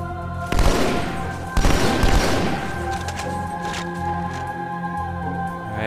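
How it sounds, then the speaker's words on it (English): Gunfire in the video game Halo 2: two sharp bursts of shots cracking out in quick succession, loud and close, followed by a lingering rumbling ambience and faint distant pops. "Uh-oh, I hear a gunfire."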